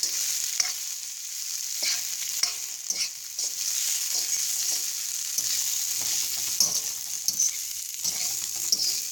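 Food sizzles steadily in a hot pan while it is stirred, with repeated scraping and clinking of a utensil against the pan throughout, close and fairly loud with no voices.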